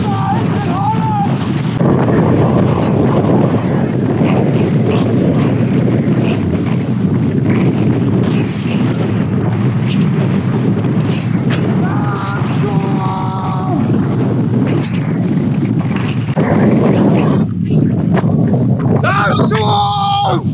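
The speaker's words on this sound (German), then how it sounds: "70 km/h Böen, irre." Strong gusting wind of a Moroccan sandstorm roaring steadily into the microphone of a cyclist on a road, with voices speaking faintly underneath.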